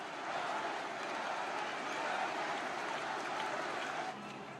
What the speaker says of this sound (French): Puis la foule scande le nom de Johnny.